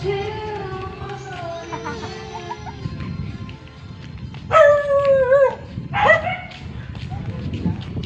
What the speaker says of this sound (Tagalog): Ingay ang aso.